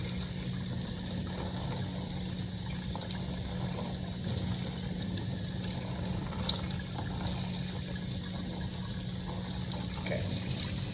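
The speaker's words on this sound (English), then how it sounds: "Rinse it real good." Spare ribs rinsed under a steady stream of running water in a kitchen sink, a continuous soft trickle and hum with no talk.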